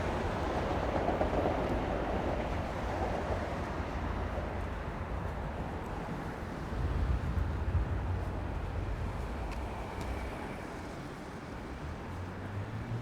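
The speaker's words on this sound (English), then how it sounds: "Oh, there's Long Island Railroad." A Long Island Rail Road commuter train rumbles past at a distance in Floral Park, a steady low roar of wheels on rails that swells briefly midway.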